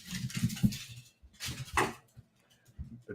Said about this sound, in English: The dog is barking in the background.